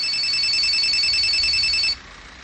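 A telephone rings loud and steady for about two seconds, an unbroken electronic trill that cuts off abruptly and leaves a faint room hush, with no talking.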